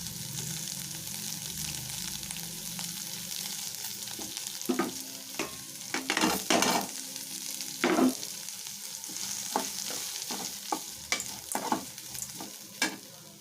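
Chopped onion and grated coconut sautéing in oil in a pan, stirred with a spatula: a continuous light sizzle broken by bursts of scraping and clattering stirs, close up and with no talking.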